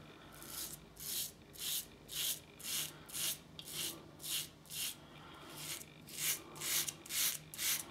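An Above The Tie G1 safety razor scrapes across a face in a steady series of short rasping strokes, close and quiet, about a dozen passes in quick rhythm with no talk.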